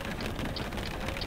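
Steady rain falls in Euro Truck Simulator 2, a dense even patter of drops on a surface without a break, heard alone.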